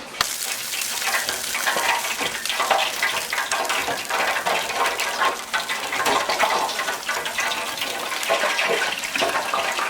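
Fish crackles and sizzles in hot oil, a dense, steady frying hiss with bubbling pops, close and fairly loud, no talk.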